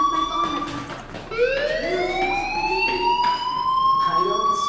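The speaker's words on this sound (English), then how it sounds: "do you hear that fire alarm?" A school fire alarm in the game Life is Strange wails in a rising, sustained electronic tone that repeats, loud and continuous, with faint background sounds underneath.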